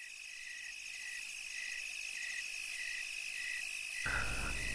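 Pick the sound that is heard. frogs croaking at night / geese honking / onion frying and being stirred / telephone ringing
frogs croaking at night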